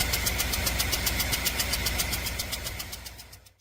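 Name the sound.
truck engine sounding like a steam engine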